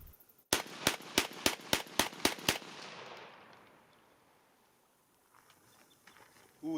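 Eight rapid shotgun blasts from a Mossberg 930 SPX defensive semi-automatic shotgun, loud and close, evenly spaced in a quick string, followed by a fading echo and quiet.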